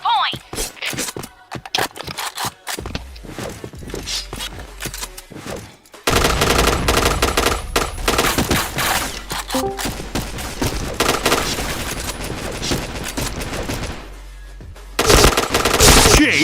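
Rapid automatic gunfire in a first-person shooter game comes in dense, loud bursts with short pauses, alongside game voice callouts and footsteps.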